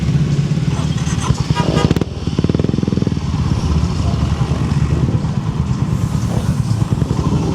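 A Suzuki Hayabusa motorcycle engine rumbles loudly and close by at a motorcycle festival, with a sharp rev burst early on before settling into a steady throaty drone.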